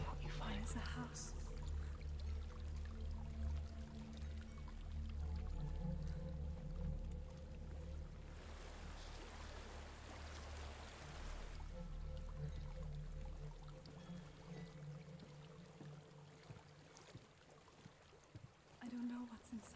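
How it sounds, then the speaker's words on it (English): A waterfall in the video game Hellblade: Senua's Sacrifice: a hissing rush of falling water swells in the middle, over a low, droning ambient bed, then fades back out. "There's a waterfall."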